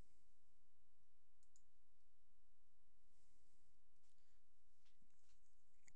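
A computer mouse clicks a few times on a desk during an antivirus scan, giving sparse sharp clicks over a faint steady room hiss, with no voices.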